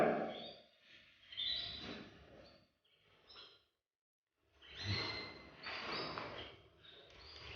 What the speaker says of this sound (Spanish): Ya veis qué guapura de pájaro.